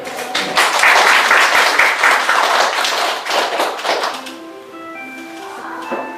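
An audience applauds at a Korean lecture on job and university entrance interviews, a dense, loud burst of clapping that fades over the last seconds as tones and light sounds take over.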